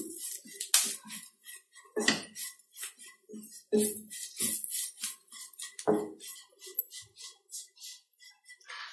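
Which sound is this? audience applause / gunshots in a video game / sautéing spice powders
sautéing spice powders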